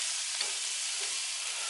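Cheesesteak meat being mixed with onion on a griddle with the heat just turned off, giving a continuous even hiss of frying with faint scraping, no talking.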